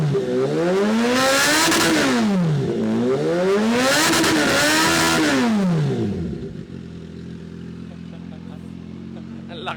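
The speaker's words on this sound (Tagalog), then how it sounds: "Alright, now I guess it's time to rev it." A Kawasaki ZH2 motorcycle with a blacked-out slip-on exhaust revs loud and close in two long blips that rise and fall, then settles into a steady idle burble.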